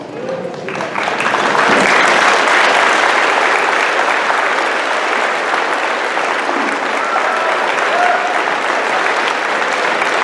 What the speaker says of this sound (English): turn around and face your teachers and give them a round of applause